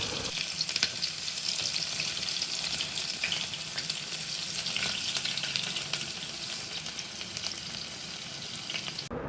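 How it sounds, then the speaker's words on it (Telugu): Sliced onions fry in hot oil in a pot for Muslim dum biryani, giving off a steady, dense sizzle throughout. The crackle stays close and even, with no voices over it. "ఆనియన్ని ఆయిల్లో వేసాక చెంచాతో కలుపుతూ బాగా వేయించుకోవాలి."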